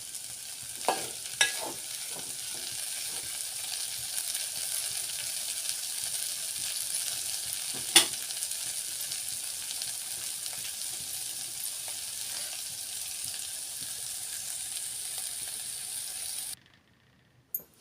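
Potato bondas fry in oil, a faint, steady sizzle running on for many seconds, broken by a few sharp clinks and stirring scrapes before falling quiet at the end.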